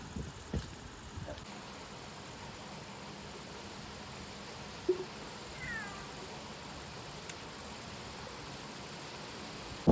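A tomcat waiting at home for a serving of rice gives a faint meow or two amid a steady background hiss, with people talking nearby.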